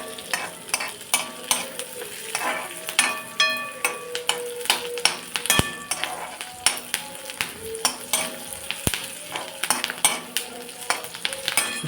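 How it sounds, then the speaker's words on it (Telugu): Green chillies fry in a pan for a broad bean curry while a metal spoon stirs them, giving a steady sizzle under frequent close clinks and scrapes, with two sharp knocks against the pan. "పచ్చిమిరపకాయలు కూడా వేసానండి, దీంతో కూడా వేయిస్తున్నాను."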